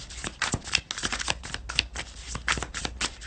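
Tarot cards shuffled and drawn during a reading, a quick run of crisp riffling and papery slaps in irregular bursts, close and moderately loud with no talk.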